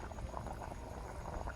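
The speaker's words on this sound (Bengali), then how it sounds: "ঝোলটা টকবক করে ফুটছে" A duck meat curry gravy with fried potatoes boils in a pot, making a steady, faint bubbling and burbling that continues evenly without pause.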